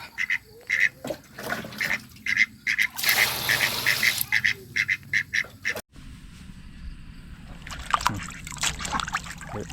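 Ducks quack repeatedly and close by while wild mushrooms are washed outdoors, with a brief burst of rushing, splashing water partway through and trickling water after it.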